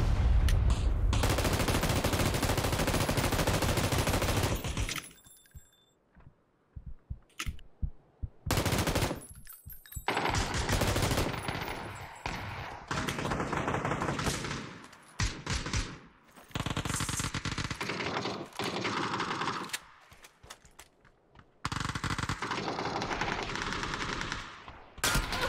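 Gunfire in the battle royale shooter PUBG on the Sanhok map: a loud sustained automatic burst opens, followed by scattered single shots and short rapid bursts amid quieter in-game sounds.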